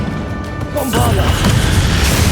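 A Bombarda blasting spell detonating in the video game Hogwarts Legacy, a loud close burst that erupts into a sustained roaring, rumbling crash filling the rest of the moment.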